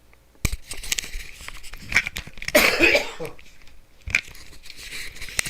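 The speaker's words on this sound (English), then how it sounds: "A little cough there." Close coughing breaks out in a few short bursts, with a harsher cluster in the middle, amid crinkling noises and brief talk.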